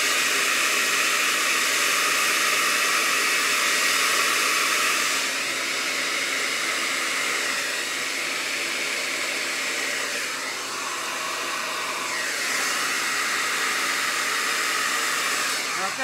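A hair dryer blows continuously up close over a resin pour, a loud steady whooshing hiss with slight changes in pitch as it moves.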